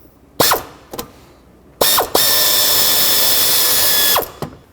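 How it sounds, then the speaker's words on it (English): A ratchet with a 10mm socket works on a nut holding the transmission dipstick tube of a 2003-2021 Chevrolet Express, with several short whirring bursts followed by one sustained two-second mechanical whir, close and loud, with no talking. "Drop a 10mm socket on there and then try to break it free."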